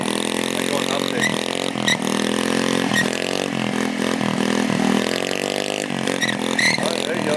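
A TaoTao scooter engine revs hard and loud during a wheelie, its droning whine rising and falling in pitch in continuous surges with no talking.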